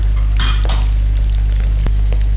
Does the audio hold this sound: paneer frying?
yes